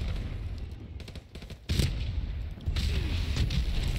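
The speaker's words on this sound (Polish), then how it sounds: "Trochę ich tam wybuchło." Grenade explosions in Call of Duty Modern Warfare Remastered: two loud, heavy booms a second apart rise over a dense, rumbling wash of battle noise.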